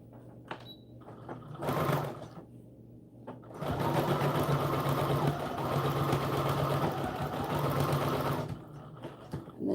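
Sewing machine stitching a seam in doll dress fabric, with a short burst of stitching, then a longer steady run of fast mechanical whirring and clicking, close up, ending with a brief pause and restart.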